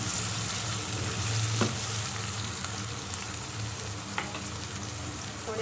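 Chopped onions sizzling steadily in half a cup of hot oil for a chicken biryani, a dense continuous frying hiss with a few faint clinks, close and alone without any talk.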